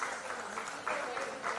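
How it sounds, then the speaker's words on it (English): Audience applause at an international seminar on women's self-reliance, a steady wash of clapping from a crowd with slight swells, moderately loud and continuous through the short stretch. "So huge round of applause."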